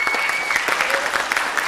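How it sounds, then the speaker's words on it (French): A large crowd at a gaming-convention influencer panel in France applauds loudly and continuously, a dense, even wash of clapping with a few scattered voices mixed in. "Attendez, arrêtez d'applaudir."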